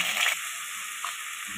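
Ground onion paste dropped into hot mustard oil tempered with mustard seeds, an initial wet splutter giving way to a steady, bright sizzle of frying close by.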